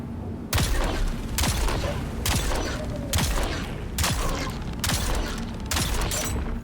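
Snub-nose pistol fire in Dune Awakening, coming as rapid bursts of shots in groups roughly every 0.8 seconds, with mechanical clicks between them, loud and steady, with no talk.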